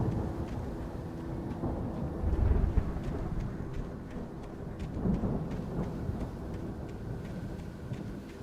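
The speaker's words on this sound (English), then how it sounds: "The storm raged on as the Anderson brothers" Thunderstorm in the video game Alan Wake Remastered: steady heavy rain with deep rolling thunder swelling twice, loud and continuous throughout, with no voices.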